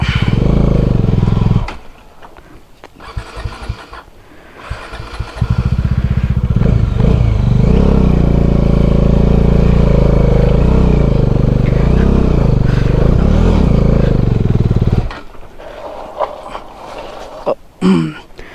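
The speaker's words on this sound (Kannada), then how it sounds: "ಗಾಡಿ ಎಳೀತಾ ಇಲ್ಲ" A motorbike engine revs hard and strains while climbing a steep forest trail, a sustained loud drone between 5 and 15 seconds with rougher, choppier engine bursts and clatter before and after.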